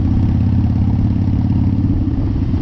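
A Harley-Davidson Dyna engine pulling hard on a dyno, a loud, close, steady low throbbing drone with a slight clatter and no voices.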